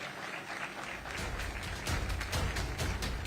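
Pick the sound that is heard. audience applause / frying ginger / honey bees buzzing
audience applause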